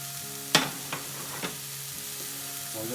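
A vegan burger patty frying in a pan, with a steady low sizzle throughout and three soft knocks of a utensil against the pan, the first one sharper; no one speaks.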